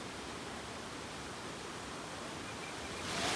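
Waterfall water rushing steadily near Saputara on a rainy road trip, a constant broad roar without a break that swells slightly at the end, no voices.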